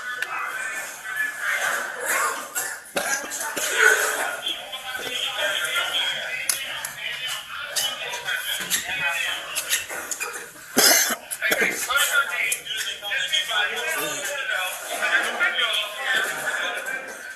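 Several people coughing and clearing their throats after exposure to OC/CS tear gas at the Capitol, repeated harsh coughs scattered throughout amid voices and shuffling.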